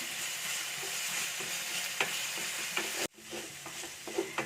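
Crushed ginger and garlic sautéing in a pan with fish, a close continuous sizzle with a few soft stirring taps, briefly cut to silence near the end before the frying resumes.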